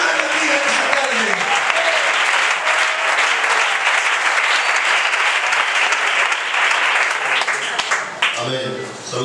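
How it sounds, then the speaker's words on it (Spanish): Loud, sustained applause from a church congregation fills the space, with voices cheering and calling out beneath it before the clapping thins near the end. "¡Dale un fuerte aplauso a Dios!"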